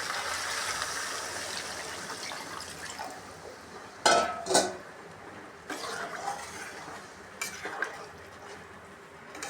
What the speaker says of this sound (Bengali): এখন আমি জলটা দিয়ে দিব পরিমাণ মতো।